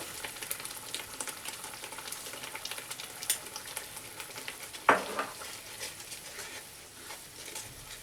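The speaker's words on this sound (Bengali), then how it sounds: "এবার 2 থেকে 3 মিনিট পর্যন্ত মিডিয়াম ফ্লেমে আমি কষিয়ে নেব।" Katla fish curry sizzles in a pan on medium flame after turmeric and salt go in: steady close frying crackle with stirring scrapes and one sharp clack midway, no voices.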